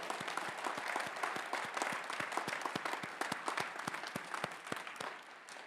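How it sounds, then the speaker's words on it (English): Crowd applause at a university commencement, a dense steady patter of many hands with some crisp individual claps standing out, held at even strength throughout. "Let's give them a round of applause"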